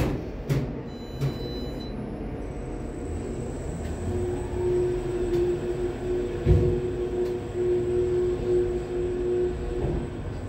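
Drive motor of an Atlas Schindler Smart 8DF machine-room-less elevator in a clothing store, a steady low hum with a faint tonal whine running underneath, a few soft clicks and one thump, heard from inside the car.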